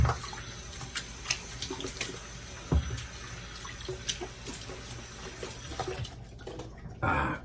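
Steady cold water from a tap flows throughout, with scattered clinks and splashes, then a brief louder gush near the end.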